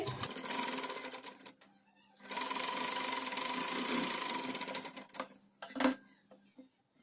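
A sewing machine stitches a salwar piece in short bursts of rapid mechanical whirring, broken by pauses, heard up close with no one talking.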